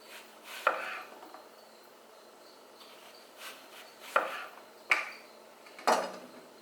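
A knife slicing through tomatoes for frying on a cutting board while preparing a BLT, with a few sharp, separate chops and board knocks spaced irregularly close by, and no talking over them.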